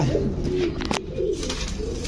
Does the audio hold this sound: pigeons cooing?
yes